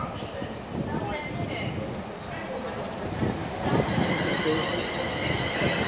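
A Class 360 train rolls past with a broad, steady rumble and rushing noise that swells slightly toward the end, while a voice murmurs faintly underneath.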